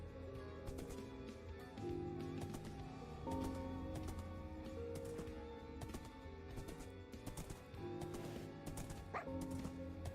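A dog barks in the Minecraft video game, short yips and woofs repeating over a busy bed of game music and effects, fairly steady and moderately loud throughout.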